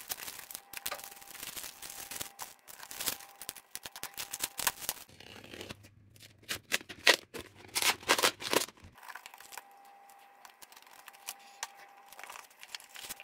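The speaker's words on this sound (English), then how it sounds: "Let's open it together and find out what Youyeetoo has sent us." A product box for a Youyeetoo YY3588 Rockchip RK3588 single-board computer is opened by hand, with a series of close, sharp tearing, crinkling and rustling bursts of packaging that come in irregular clusters between short quiet gaps.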